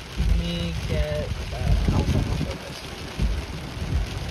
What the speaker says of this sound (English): Now the rain's picking up.